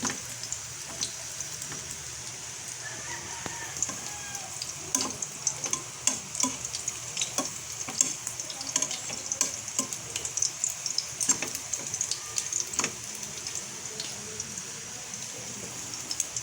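Meat frying in a pan for a simple home-cooked lunch dish, a steady close sizzle with scattered crackles and pops and occasional stirring scrapes throughout.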